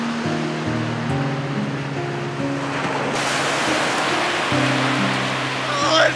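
Winter ocean waves at a beach roll in as a broad steady roar with wind over the microphone, while music plays alongside.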